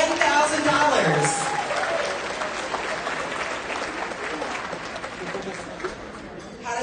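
Applause for donors at an animal shelter's charity gala, the Fur Ball: a large room of people clapping steadily for several seconds, with a few voices and cheers mixed in.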